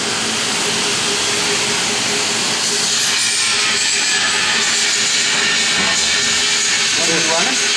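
A new end-welding machine for aluminum tanks running in a shop, giving a steady loud hiss and whine with rising and falling tonal sweeps near the end, while someone talks.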